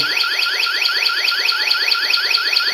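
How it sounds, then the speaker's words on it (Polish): Loud Zigbee smart home alarm siren sweeps rapidly in a fast repeating warble, piercing and continuous throughout. "Teraz ja go włączę, zobaczcie taki alarm. Jest bardzo głośny."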